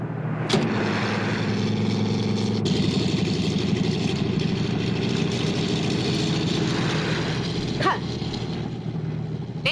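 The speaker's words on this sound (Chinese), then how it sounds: "命令直升飞机马上起飞" Helicopter taking off in an old Chinese animated film, heard as a steady, fairly loud broadband engine drone that holds an even level throughout, with no voices.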